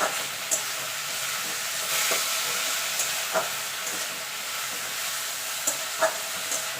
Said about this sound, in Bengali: এবার এটাকে একটুখানি ভাজা ভাজা করে নেবো